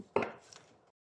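A single heavy chop of fish on board a fishing boat, one sharp close thud that fades quickly into silence.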